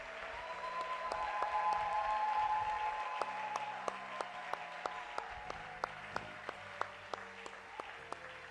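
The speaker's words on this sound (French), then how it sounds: "Acclamons très fort pour la parole de Dieu" A church congregation applauding during a prayer service, broad clapping that swells early and then thins into a steady run of separate claps, moderately loud in a reverberant room with faint background tones.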